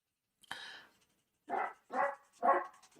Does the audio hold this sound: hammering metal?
no